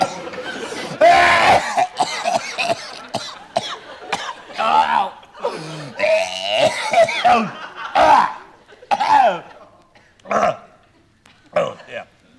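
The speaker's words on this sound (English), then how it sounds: "Still got that cough then?" Harsh coughing bursts break out several times between stretches of people talking, close and loud.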